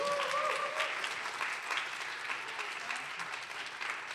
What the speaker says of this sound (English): Please keep the claps going for Lee Adams